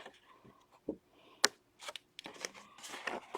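Paper snips cut through paper in a few quiet, uneven snips and crisp rustles close by, separated by short pauses.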